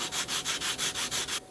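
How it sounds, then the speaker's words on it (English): A laser-cut part for an HO scale model building is sanded with quick, even back-and-forth strokes. About seven rhythmic rasping passes sound close and clear, with no talk. "Keep sanding away carefully, taking some off each side"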